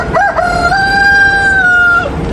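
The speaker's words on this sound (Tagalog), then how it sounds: "Ito yung mga manok." A rooster crows once, close and loud, its long drawn-out call rising and then holding steady, with chickens at a backyard poultry coop in Pulilan, Bulacan.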